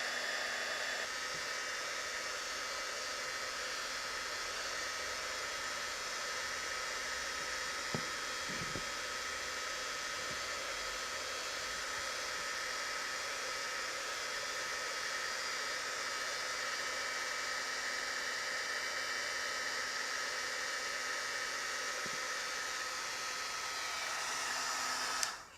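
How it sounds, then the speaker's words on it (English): A heat gun blows continuously while melting wax into wood, a steady airy whoosh with a constant motor hum, close and even throughout with no speech. "I'm going to speed up the process by using my heat gun to melt the wax in"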